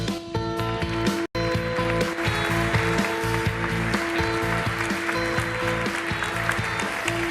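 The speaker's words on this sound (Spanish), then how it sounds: "Bienvenida Thais, un aplauso para ella." A congress audience claps for a speaker being welcomed, a steady broad wash of applause with a strong steady hum underneath and a brief dropout early on.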